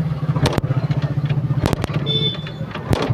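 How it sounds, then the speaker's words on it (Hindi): A Bajaj CT 100 motorcycle engine catches and runs with a close, rapid, uneven putter, punctuated by a few sharp clacks. "बाइक में चालू हो गई है"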